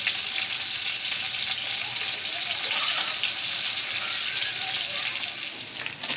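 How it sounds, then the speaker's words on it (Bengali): Pieces of tatkini fish sizzle loudly and evenly in hot oil in a pan after being turned to the other side, a dense unbroken hiss that eases off slightly at the end. "উল্টায় আর একটা পিঠ ভালো করে ভেজে নেব।"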